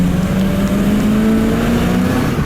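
A 1989 Ford F-350 XLT Lariat crew cab 4x4 with a 7.5L 460 V8 accelerates, its engine droning loud and close in a steady rising pull with no talk.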